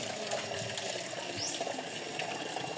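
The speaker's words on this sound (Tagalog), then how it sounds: "Nilagyan tubig." Water gushes steadily with a broad, noisy splashing rush that keeps up without pause from start to finish.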